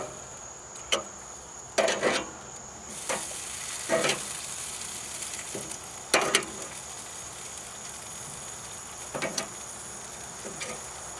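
Chicken thighs seasoned with rub sizzle softly on a grill, a quiet steady crackle broken by several louder bursts of spitting fat.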